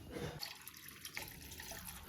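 Water is poured into a pot of rice for a mutton dum biryani, a soft, brief, quiet splashing trickle close by.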